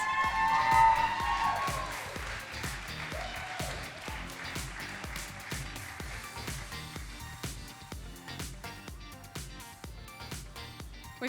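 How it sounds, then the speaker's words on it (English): An audience at a national grand final awards night bursts into sustained applause and cheering for the Educator of the Year, with dense, steady clapping and a few whoops lasting throughout. "Big round of applause for Chris."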